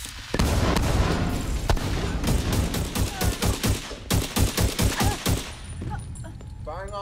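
Heavy gunfire in The Division 2 during a stronghold attack, sustained rapid bursts and booming shots layered together, loud and continuous for several seconds before easing off.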